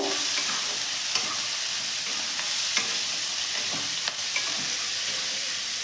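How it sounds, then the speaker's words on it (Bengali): Onion, capsicum, carrot and beans fry with salt in a pan, a steady close hiss of sizzling broken by light scrapes and stirring clicks, with no voices. "পেঁয়াজের সাথে আমি ক্যাপসিকাম গাজর আর বিনস কেটে রেখেছি সেটাও দিয়ে দিলাম এর ভেতরে নুন দিচ্ছি ভালো করে ভাজবো"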